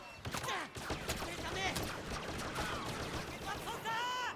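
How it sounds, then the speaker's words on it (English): Dense, rapid blaster fire crackles and streaks through a Star Wars Battlefront Outer Rim battle, with sweeping laser-bolt whines overlapping in a continuous barrage over background game noise. "There is a lot, and I mean a lot of enemy fire incoming"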